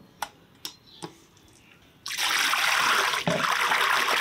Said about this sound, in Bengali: চিংড়িগুলো বেছে নিলাম, এবার পরিষ্কার করে ধুয়ে নেব।